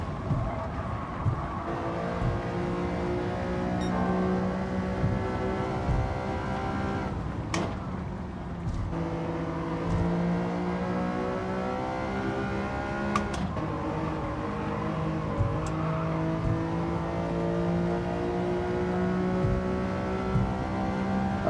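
A steady engine drone with shifting pitch runs throughout, a racing car in a racing video game revving and shifting gears, with a few brief clicks along the way.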